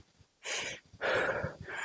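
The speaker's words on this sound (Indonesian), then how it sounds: "Kita nyampe ngos-ngosan gini guys." A hiker's heavy, ragged panting after climbing a steep trail section between mountain posts on Gunung Lembu in Purwakarta. Two or three loud, close breaths are heard alone.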